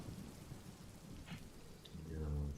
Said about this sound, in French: la pluie qui continue à couler